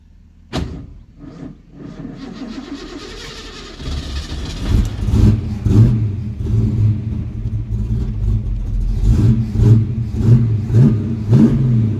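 A Ford Mustang V8 fitted with a QFT Slayer 750 carburetor, flooded after a carburetor swap, cranks and catches, then revs in uneven bursts, rising and falling loudly at close range after a sharp starting clatter.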